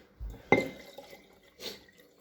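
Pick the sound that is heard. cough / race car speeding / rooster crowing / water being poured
water being poured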